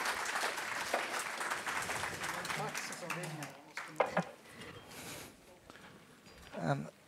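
Audience clapping at a panel event on resisting disinformation ahead of the EU elections, a steady wash of applause that thins out over several seconds, with a few voices mixed in.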